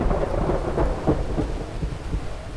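Heavy pouring rain on a backcountry mountain-bike trail, a dense steady roar with low rumbles of thunder rolling through, loud and close, with no voices.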